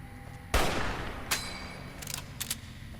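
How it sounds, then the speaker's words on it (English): An M1 Garand rifle fires in Fallout New Vegas: one sharp, loud shot with a decaying tail, then a crisp metallic ping and a few lighter clicks and clacks. "Oh, I love the M1 Garand. That metal ping never gets old."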